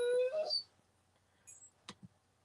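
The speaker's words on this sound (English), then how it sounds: "Sorry if you can hear my dog." Household dog in the background of an online meeting, giving a high, wavering whimper that rises into a short howl near the start, then a few faint scattered thumps and clicks.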